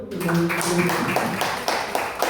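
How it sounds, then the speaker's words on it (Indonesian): Clapping from an audience at a school positive-culture dissemination session, a dense patter of hand claps with a voice talking over it. "Kita beri tepuk tangan dulu"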